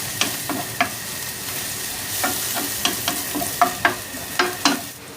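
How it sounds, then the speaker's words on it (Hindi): Ginger paste fries in a pan with a steady low sizzle, while a spoon scrapes and taps the pan in a dozen sharp, uneven strokes as it is stirred, close and fairly loud, with no talking. "अब थोड़ा सा इसे मिक्स करेंगे और थोड़ा सा भूनेंगे"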